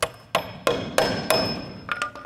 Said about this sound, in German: nehme den Hammer,